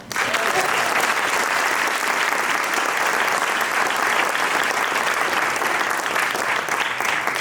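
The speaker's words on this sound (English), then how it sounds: "You can clap." Steady, dense applause from a large crowd at an awards breakfast honoring a longtime real estate employee, loud and continuous throughout with no break.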